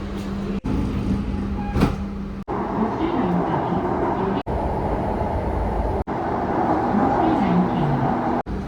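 Inside a moving metro train in Pune, a steady rumble and rolling hum carries on with squealing tones and occasional muffled voices.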